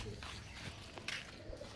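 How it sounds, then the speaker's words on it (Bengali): Pure Andhra Kalshira breed pigeons give soft, low cooing in a loft, a brief faint burst of coos with light rustling around them. "আর এক পেয়ার পিওর আন্ধ্রা কালশিরা পায়রা দেখাচ্ছি"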